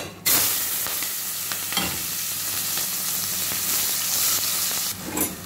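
Onions fry in a pan for a West African palm-nut sauce with a loud, continuous sizzle and crackle, a dense hiss holding steady throughout with no talking.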